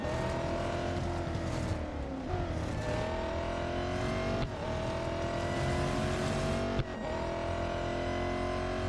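Race car engine in the mobile racing game Real Racing 3, loud and continuous, its pitch climbing under acceleration and dropping sharply at several gear shifts, with no talk.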